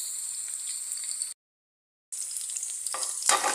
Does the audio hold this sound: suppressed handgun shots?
no